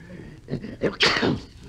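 A single loud sneeze bursts out after a couple of short sniffly breaths, close and sudden.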